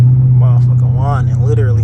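A boat engine hums with a steady low drone and a faint whine, close and continuous beneath someone talking excitedly over it.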